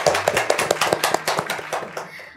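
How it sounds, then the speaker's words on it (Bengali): Several people clap loudly together for a child named Trisha on a children's quiz show, a quick uneven patter of hand claps lasting a couple of seconds over a low drum-like thump. "তৃষার জন্য একটা সবাই মিলে জোরে হাততালি"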